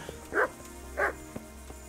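A dog in the medieval video game Kingdom Come Deliverance gives two short barks about half a second apart, moderately loud over a quiet game background.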